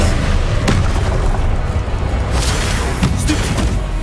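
Confringo spell blasts in the video game Hogwarts Legacy: loud booming impacts and thuds land over a constant rumbling battle din, with several sharp hits standing out.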